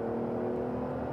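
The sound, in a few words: BMW 850Ci E31 V12 coupe accelerating 0-100 km/h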